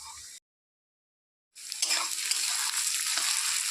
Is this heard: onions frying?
yes